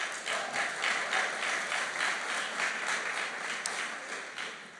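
Members of a church congregation break into applause, a dense, sustained wash of many hands clapping with a faintly pulsing rhythm that fades slightly toward the end.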